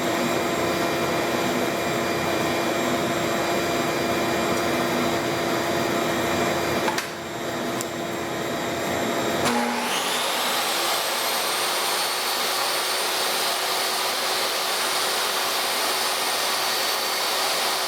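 Table saw ripping a 25 mm strip from painted plywood, paint side up: a loud steady whine runs throughout, dips briefly as the cut ends around the middle, then the blade keeps spinning with a rising, even hum.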